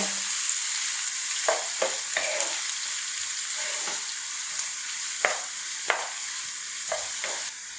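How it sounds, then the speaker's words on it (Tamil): Onions and curry leaves sauté in a pan with an even, bright sizzle, punctuated by half a dozen spatula scrapes at irregular intervals, close up and without speech. "வெங்காயத்தையும் கருவேப்பிலையும் நல்லா வதக்கிடுங்க"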